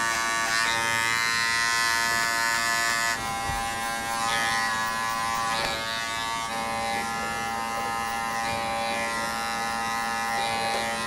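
Electric hair clippers drone in a steady, close, continuous buzz while a man's thinning hair is cut down to a buzzcut, with no talking over the sound.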